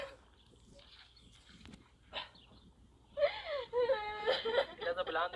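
A child cries, first with soft whimpers and then with louder, wavering wails during the last two seconds, mixed with voices.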